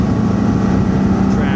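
A bass boat's outboard engine roars steadily at close range as the throttle is pushed, with a dense, constant drone and rushing water beneath it.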